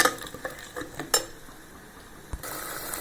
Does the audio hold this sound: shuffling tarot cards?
no